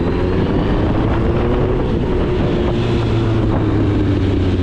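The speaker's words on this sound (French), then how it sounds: "Ah, ce son de 4 cylindres à carburateur, mais c'est génial." A 1996 Suzuki Bandit 1200 four-cylinder carbureted motorcycle engine hums steadily at low revs, a constant loud drone heavily buffeted by wind noise on the microphone, no voices.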